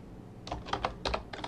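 Quick keystrokes on a computer keyboard as a terminal command is entered, several clustered clicks in a short burst, close and fairly soft, with no talk.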